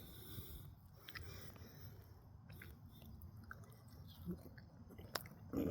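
Close-up chewing of crispy seasoned fries from Applebee's, eaten alongside ribs, with soft crunchy bites and wet mouth sounds repeating steadily for several seconds, no talking.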